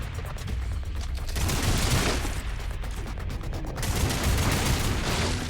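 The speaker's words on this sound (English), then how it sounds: "Some shooting there." Sustained gunfire in the Lost Planet 3 video game, dense bursts of automatic shots and booms rolling on continuously and loudly throughout, with no pauses.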